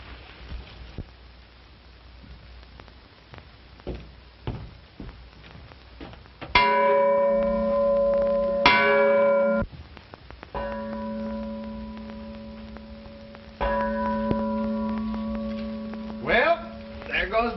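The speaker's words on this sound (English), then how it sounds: "there goes the bell" A bell rings out in an old Western setting, several loud, resonant strikes with long ringing tails, separated by pauses, after a stretch of faint background noise.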